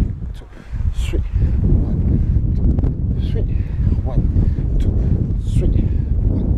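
Outdoor wind buffets the microphone during a Thai boxing workout with a resistance band, a loud rumbling gust noise that runs continuously beneath a person speaking.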